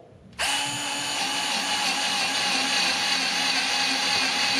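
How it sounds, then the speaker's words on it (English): A Worx semi-auto screwdriver used as a drill spins a 3/32 bit into a pilot hole. A sharp start jumps into a steady, loud whine that holds for about four seconds close by. "let's say, for example, we want to use this as a drill and driver"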